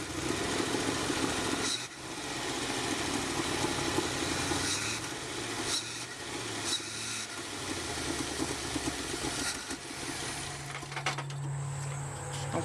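Automixer 4 engine running on test with the valve not yet fine-tuned, a steady loud mechanical churn with rumbling low tones and intermittent knocks throughout, and a brief dip near two seconds.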